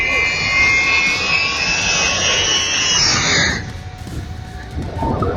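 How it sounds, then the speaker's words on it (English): An Aerosucre Boeing 727 jet taking off at very low altitude from an airport: a loud, roaring engine blast close by that cuts off sharply near the end, leaving a quieter rumble. "This wild clip shows an Aerosucher Boeing 727 taking off from Porteno in crazy low-altitude conditions."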